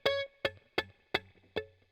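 Five short, evenly spaced strums of a guitar chord, each one decaying fast with a dull, buzzy tone because the strings are not pressed hard enough against the fretboard, with no speech.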